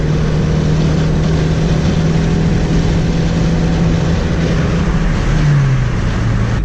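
Honda Civic Si engine in 6th gear at about 72 mph pulling under light throttle with a lean air-fuel ratio, a steady droning hum with a low tone that dips near the end, continuous with no talk.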